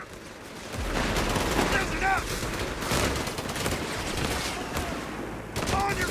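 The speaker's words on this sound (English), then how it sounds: "Damn Krauts have a machine gun!" A German machine gun rattles in Company of Heroes 3 during a WWII battle in Italy, firing sustained bursts amid shouting soldiers and other battlefield din, with bullets whizzing by.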